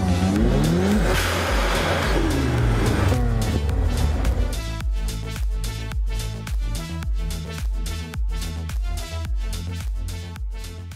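A stock Japanese Mazda RX-7 with its original sequential twin-turbo rotary engine revs hard and loud up close, then settles into a rapid run of sharp, regular pulsing bursts and blow-off whooshes.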